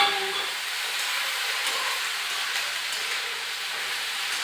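Cluster beans frying in oil in a pan with a steady, even sizzle and hiss that holds at a moderate level throughout.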